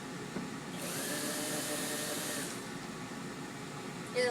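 A power screwdriver whirs steadily while backing wood screws out of a speaker woofer, a close, continuous buzzing whine that stops near the end.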